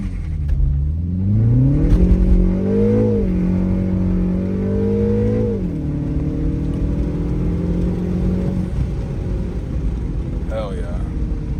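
A 2025 Mini Cooper S launching with launch control on a winter road: engine revs climb through rising pitch, briefly dip at a shift, then pull strongly again before easing to a steady drone, heard from inside the car.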